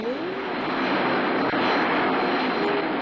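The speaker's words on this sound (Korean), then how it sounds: "대한항공의 초대형 전보제트기 보잉 747기가 태평양 횡단 미주 노선에 첫 귀향했습니다." A Korean Air Boeing 747 jet airliner roars loudly and steadily close by, a broad continuous jet-engine rush that holds level throughout without pause, with no voices.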